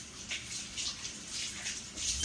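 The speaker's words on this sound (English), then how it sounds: "Let me rinse the hands off again." Hands rinsed under a running kitchen tap, a steady close hiss of water with soft splashing as the hands move through the stream.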